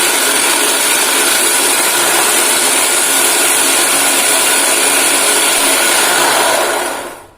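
A food processor grinds cashew nuts for a sweet mochi filling, a loud, steady whirring roar that runs close and unbroken for about seven seconds before cutting off abruptly at the end.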